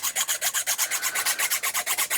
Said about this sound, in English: just going to come in with the nail file and give that bottom a really, really good sanding